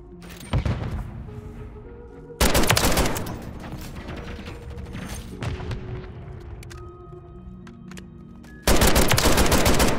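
Rapid bursts of automatic gunfire and a shotgun turret in a first-person shooter match with the JAK Jawbreaker, loud volleys at the start and end with dense sustained firing and game effects between.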